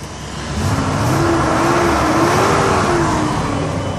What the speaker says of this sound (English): Motor sounds perfect.